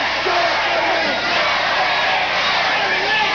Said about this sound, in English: I'll wait until they get through chanting for Eric.